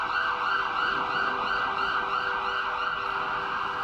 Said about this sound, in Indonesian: telinganya mendengar sirine ambulan meraung-raung